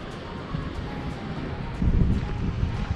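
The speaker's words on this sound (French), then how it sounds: "je ne sais pas si vous entendez avec le petit vent qu'il y a" Light wind blowing outdoors on a dry Spanish hillside, a steady broadband rush with a gust strengthening toward the end, no voices.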